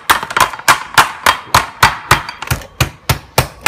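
Chicken breast pounded flat with a kitchen mallet, about a dozen sharp, loud thumps in a steady, quick rhythm, close up and with no voices.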